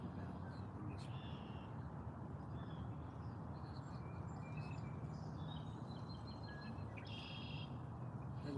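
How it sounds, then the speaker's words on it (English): Birds sing outdoors during a quiet open-air church service, scattered faint chirps and short calls over a soft steady background hush. "And the sound of the birds."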